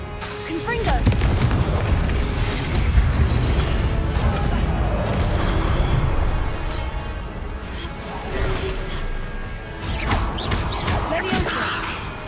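Repeated Confringo blasting-spell explosions in the Hogwarts Legacy video game, heavy booming blasts and crashing debris layered over a dense rumbling battle din, loud and sustained for about twelve seconds with sharper impacts near the start and end.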